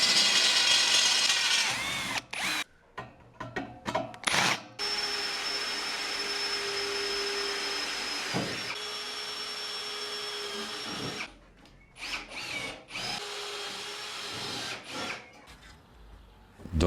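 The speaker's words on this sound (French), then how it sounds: "Et je perce." Power drill boring into wood while building a wood-and-metal workbench, several short bursts of whirring, then a long steady run and more stop-start bursts, close and fairly loud.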